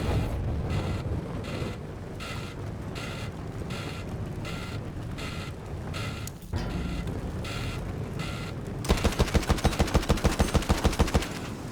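Gunfire from an aircraft in the Battlefield 1 video game: continuous rattling shots over engine and wind roar, ending in a loud, rapid burst of machine-gun fire.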